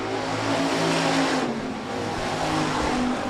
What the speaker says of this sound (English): Third and final heat race for the USRA Hobby Stocks.